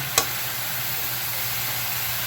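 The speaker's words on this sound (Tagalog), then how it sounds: "Yan ang una yung gigisahin yung tangkay kasi para lumambot siya." Water spinach (kangkong) stems sautéing in a pan give a steady, even sizzle throughout, with one brief sharp clatter near the start and no talking.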